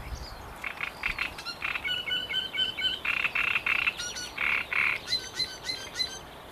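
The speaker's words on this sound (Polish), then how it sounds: "ptaki śpiewają, żaby rechocą" Birds chirp and sing in repeated bright phrases by a quiet fishing spot, fairly close and steady over soft background hiss; no frog croaking stands out clearly.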